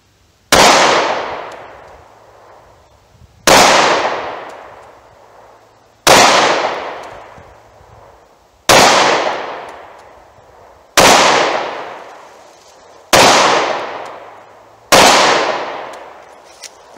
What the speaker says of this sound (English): I'm just gonna fire them off, see if I can hit that tank at that 40 yards.